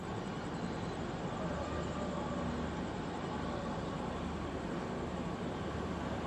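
Puri Garib Rath Express pulling out of the station at Shalimar, a steady, loud rumble of the running train and its carriages with no break, continuous throughout.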